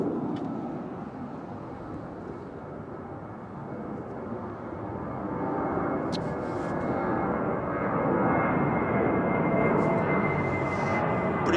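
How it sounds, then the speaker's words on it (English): An Airbus A350 lines up for departure at London Heathrow, its engines a steady broad roar heard from a distance that swells gradually louder toward the end. "Another 350 lines up for departure"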